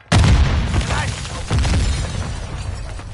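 A grenade blast in an online shooter game: a sudden loud boom at the start, then a second heavy thump about a second and a half later, with rumbling debris and noise trailing off.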